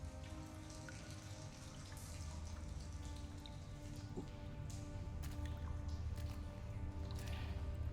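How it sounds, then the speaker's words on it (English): Water drips in a dank sewer-like dungeon corridor with mold-covered walls, scattered faint drops falling over a steady low rumbling ambience, no voices. "Kind of hear the dripping sound"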